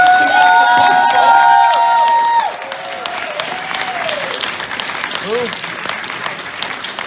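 A crowd applauds loudly for a couple of seconds, then the clapping thins out as faint voices and scattered noise continue.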